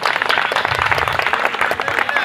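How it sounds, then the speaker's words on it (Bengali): Applause for a man named Najibul at a community blood donation camp and winter clothing distribution, a dense burst of crowd clapping, close and loud, with voices underneath. "একটু জোরে হাততালি নাজিবুলের জন্য"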